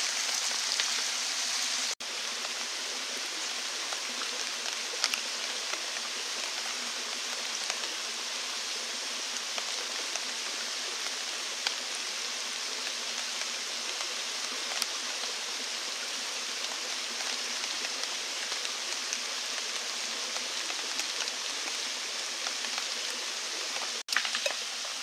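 Steady rain patters on a bushcraft camp tarp, an even broadband hiss that holds at the same level for the whole stretch, with no voices and only a few faint louder drops.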